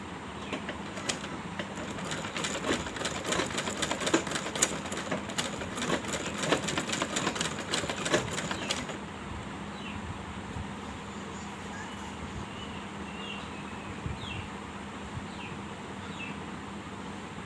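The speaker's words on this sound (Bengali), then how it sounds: "এভাবে আস্তে ধীরে সেলাইটা করে নিতে হবে" A sewing machine stitches fabric at an unhurried pace, giving a fast, even mechanical clatter for about nine seconds before stopping, leaving a faint background hum.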